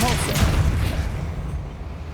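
A Depulso spell is cast in the Hogwarts Legacy video game, giving a dense low rumbling burst that fades over about two seconds, loud and close with no voices.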